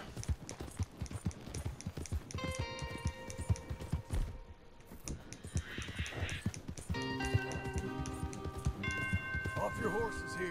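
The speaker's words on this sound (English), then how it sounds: "Jim Milton reitet wieder." Steady clip-clop hoofbeats of horses ridden in Red Dead Redemption 2 keep a rapid, even rhythm throughout, mixed with game music and someone talking over them.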